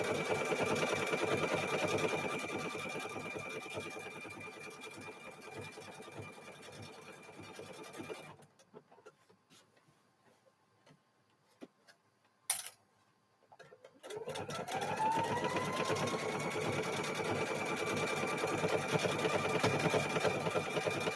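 Up close, a sewing machine hums continuously along the edge of a quilt, falls quiet for several seconds with a brief click, then starts stitching again at a steady pace.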